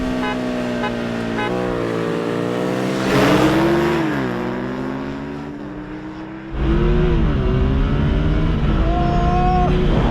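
A Suzuki SV650 motorcycle drag races a Porsche 911, with loud close engines revving and pulling hard through gear changes, the pitch climbing and dropping before a fresh surge of engine roar.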